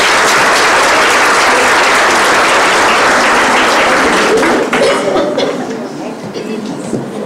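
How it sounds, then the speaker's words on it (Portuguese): Audience applause fills a room at a Catholic catechesis training meeting, a dense, steady roar of clapping that thins and fades over the last couple of seconds. "de novo uma salva de palmas aí"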